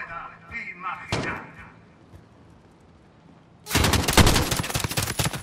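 Bursts of gunfire crack through a Call of Duty: Modern Warfare campaign mission, a single sharp shot early on, then a dense, loud sustained volley of automatic fire near the end.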